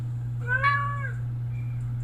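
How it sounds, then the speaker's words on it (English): A single cat meows once, a clear drawn-out mew rising and falling near the middle of the clip over a steady low electrical hum, with no other sounds. "Cat there."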